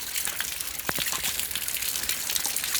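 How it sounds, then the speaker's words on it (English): Rain falls outdoors around a big puddle, a steady hissing patter with scattered louder drops and splashes, no voices. "raining over here, guys"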